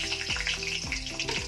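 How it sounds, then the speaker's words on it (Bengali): Dried red chillies crackle and sizzle in hot oil, a soft bubbling hiss with a few quick falling pops, close but fairly quiet and without talk. "তেলের মধ্যে শুকনো লঙ্কা ফোড়ন দিয়ে দেব"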